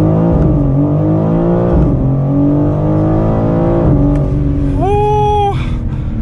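A 2023 BMW M4 CSL launching in track mode, loud engine note climbing steeply through the revs with brief drops at gear shifts, heard from inside the car.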